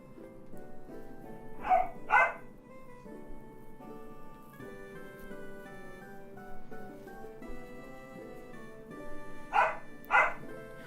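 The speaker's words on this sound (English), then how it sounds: "I hope you can enjoy the dogs barking in the background." Dogs barking in the background, two pairs of quick barks heard fairly far off over a quiet tonal backdrop, several seconds apart.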